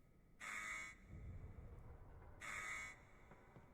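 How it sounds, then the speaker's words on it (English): An alarm in the horror video game Post Trauma sounds as two slow, buzzy electronic blares about two seconds apart, each lasting roughly half a second, over a quiet low background with no voices. "you'll hear the alarm going off. It's slower than the others."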